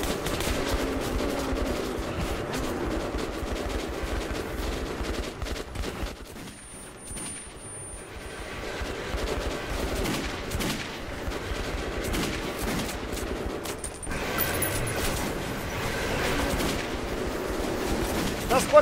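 Sustained automatic gunfire in the Metro 2033 Redux video game, dense bursts rattling almost continuously with a brief lull in the middle, loud and close, with game music and ambience underneath.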